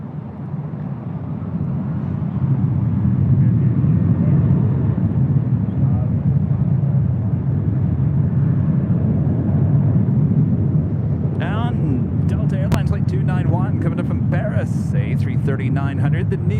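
An airliner rolls for takeoff on runway 24 left at Los Angeles International Airport, a loud sustained low engine roar that swells and holds, with a voice talking over it in the closing seconds.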